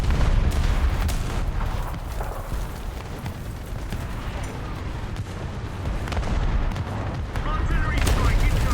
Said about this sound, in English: and there's a bomb